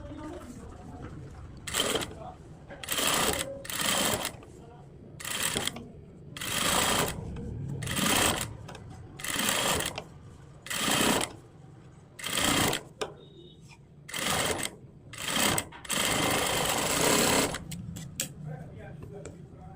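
A sewing machine runs a blouse hook strip along its edge in repeated short bursts of fast stitching, each a few seconds long, with brief pauses between them, close up, with someone speaking in the quieter gaps.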